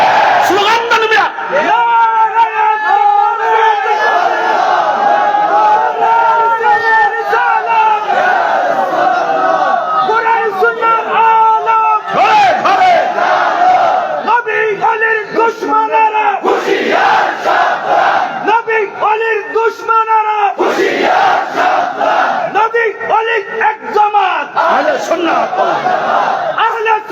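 A large crowd at a Bengali religious sermon chants slogans together in loud, rhythmic call-and-response bursts, with short pauses between the massed shouts.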